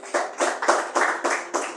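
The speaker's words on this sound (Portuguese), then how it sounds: "Palmas para Jesus, irmãos." A church congregation claps for Jesus in steady rhythmic unison, about six loud beats at an even pace, with no talking over it.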